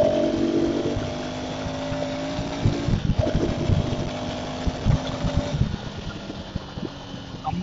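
2025 KTM Adventure 390X motorcycle accelerating in third gear: a steady, close engine drone with a rising tone, broken by a brief dip near the middle, then continuing under wind noise.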